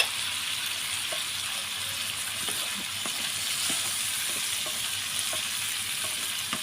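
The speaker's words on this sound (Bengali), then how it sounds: "এই গোটা রসুনগুলোও কিন্তু হচ্ছে আমি এখন এই সজনের সাথে কষিয়ে নেব" Whole large garlic cloves fry with drumsticks in a pan, giving a steady close sizzle with scattered light clicks and scrapes of stirring and no talk.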